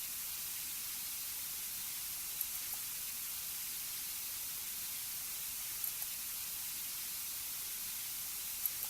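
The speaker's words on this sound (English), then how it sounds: "I think that's supposed to be static." Steady hiss of static in the video game You Are Worthless, a constant bright wash resembling light rainfall, faint and unbroken with a few tiny clicks, no voices.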